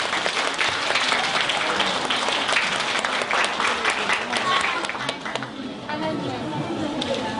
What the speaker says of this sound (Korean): 손 한번 박수로 환영할까요?